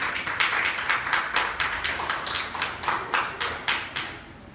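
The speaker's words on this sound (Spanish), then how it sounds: "Dale un aplauso al Señor" A church congregation claps in a quick, even rhythm for several seconds. The individual claps stand out clearly at close range, then the clapping thins and fades near the end.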